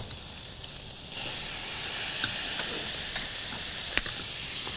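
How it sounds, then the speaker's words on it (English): Flour frying in meat dripping in a pan, a steady close sizzle and hiss with occasional small pops and a slight rise as it starts. "You never notice how much noise frying takes until you actually listen to it."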